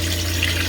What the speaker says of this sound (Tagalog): ito pong nilalagay ko is hugas bigas po siya